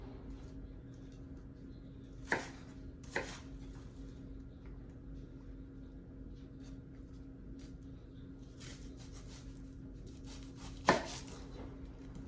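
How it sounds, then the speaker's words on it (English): A knife cuts an onion on a board in a home kitchen, giving three sharp chops early and one more near the end, separated by quiet with a steady low hum beneath. "I'm gonna just cut the rest of this onion"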